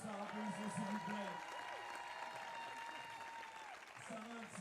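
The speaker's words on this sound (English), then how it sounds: "applaudissements s'il vous plaît" Applause from the audience at a FIBA 3x3 women's basketball finals in Bordeaux as the tournament MVP is introduced, a steady broadband roar that holds throughout while an announcer's voice talks over it at the start and end.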